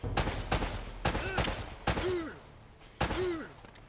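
Enemy gunfire in Uncharted: Drake's Fortune, in the flooded Drowned City: sharp, close shots crack out in an irregular string of about seven, with voices talking between the bursts.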